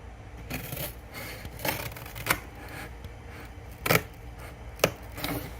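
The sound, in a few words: scissors cutting material for a box computer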